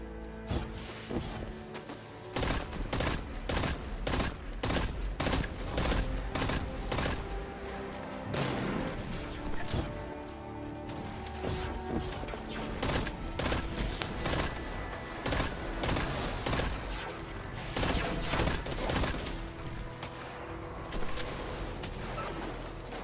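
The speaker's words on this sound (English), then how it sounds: "Why are you shooting at me?" Dense, loud gunfire in Destiny 2 during a Mercury flashpoint, with overlapping shots, impacts and crashes that keep going almost without a break for the whole stretch, and no talking over it.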